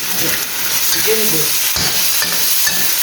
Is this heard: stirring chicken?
yes